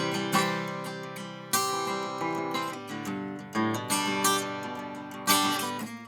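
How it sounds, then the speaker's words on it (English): Guitar strings picked one after another in a strumming-exercise pattern, ringing notes overlapping with clear attacks every second or so, close and steady with no talking. "you can actually pick the strings in the exact same way here, so you get something that sounds like this"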